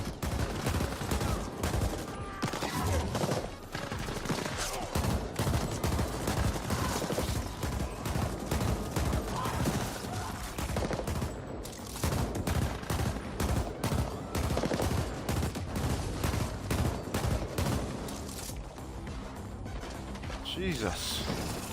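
Gun turret in the video game The Ascent firing sustained rapid bursts, loud and dense throughout, with game effects and crashes mixed in and a voice talking over it.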